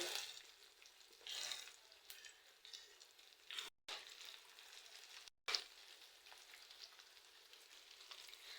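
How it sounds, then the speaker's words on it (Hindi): Chicken strips frying on low heat in a pan, a faint continuous sizzle and crackle with small spits, broken twice by brief drops to near silence. "बस हल्की आंच पे इनको फ्राई करते जाना है।"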